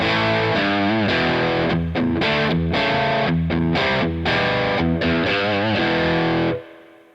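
An electric guitar played through a Kemper Profiler green scream overdrive, loud distorted chords and riffs strummed in rhythmic bursts with brief gaps, ending abruptly.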